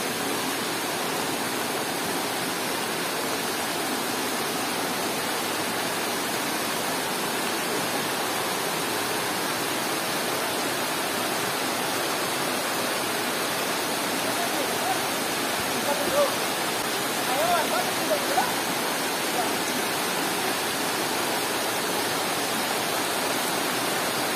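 Pangabit-Kabiton Falls in Capiz, Philippines, pours in a steady, dense roar of falling water that fills the whole scene evenly, close and constant with no break.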